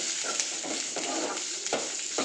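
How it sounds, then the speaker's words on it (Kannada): Green chillies frying in oil in a pan for okra chutney, a continuous close sizzle broken by several rhythmic stirring scrapes. "ಚೆನ್ನಾಗಿ ಮೆಣಸಿನ್ಕಾಯಿನ ಫ್ರೈ ಮಾಡ್ಕೋಬೇಕು ಬೆಂಡೆಕಾಯಿ ಚಟ್ನಿಗೋಸ್ಕರ."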